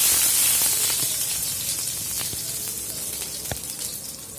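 Chopped garlic sizzles in hot oil with a panch phoron five-spice tempering for a masoor dal tarka, a steady close hiss with occasional soft pops and crackles, heard alone.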